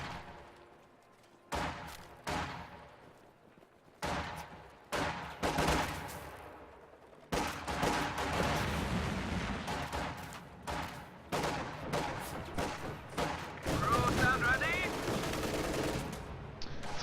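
Gunfire in a Company of Heroes-style real-time strategy game, including G43 rifles engaging at long range, heard as dense, repeated bursts and cracks with explosions layered over continuous battle noise, with occasional faint voices.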